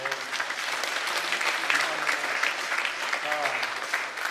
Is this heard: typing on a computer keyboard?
no